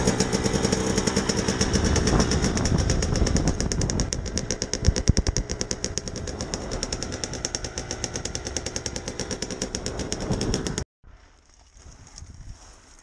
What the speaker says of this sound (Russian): Новый мотоцикл.